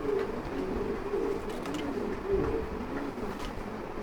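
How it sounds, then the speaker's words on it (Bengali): Tagged pigeons coo in low soft repeated calls, close and steady, several birds overlapping over a faint background hum. "দেখেন কবুতরগুলো সবগুলো ট্যাগ করানো,"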